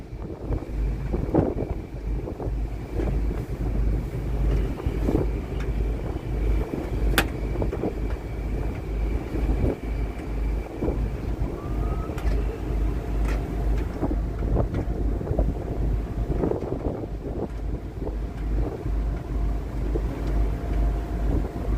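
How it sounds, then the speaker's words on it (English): Strong wind buffets the microphone aboard an NYC Ferry crossing the East River, a steady loud rumble with gusty bursts under a low boat engine hum, no talking. "The wind was crazy for this past couple of minutes"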